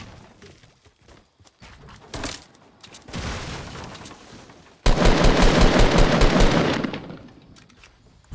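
Rapid automatic gunfire in Fortnite Battle Royale solo play, with scattered shots early on, then a loud sustained burst of dense, closely spaced shots lasting a couple of seconds before it cuts off.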